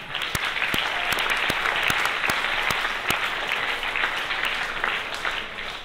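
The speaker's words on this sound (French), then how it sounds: "Sous vos applaudissements, s'il vous plaît." An audience gives sustained applause at a thank-you and closing ceremony, a full, steady clapping crowd with a few sharper, louder claps standing out nearby.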